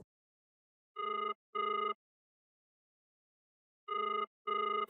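An unanswered telephone call rings in two double bursts, a pair of rings near the start and another pair after a long silent gap; clear, electronic, and alone.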